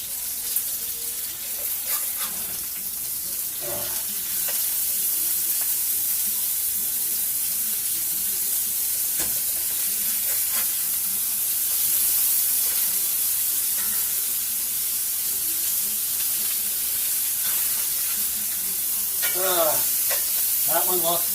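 Oklahoma onion burgers sizzle steadily on a hot griddle after being flipped, a bright continuous crackle with occasional scraping and clinks and a few faint voice fragments.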